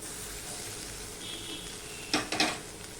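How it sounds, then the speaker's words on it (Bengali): Potatoes fry in a pan with ginger, ground coriander, cumin and turmeric for a vegetarian banana-flower dish, a steady even sizzle broken near the end by a couple of loud stirring scrapes against the pan, with no talking. "আলুটা ভাজা ভাজা হয়ে যাচ্ছে"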